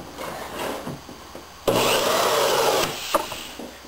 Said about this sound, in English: at least I can pilot a hole